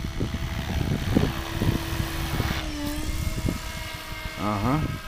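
A helicopter flying and coming in to land, its steady rotor and engine roar filling the background, with people talking loudly over it nearby.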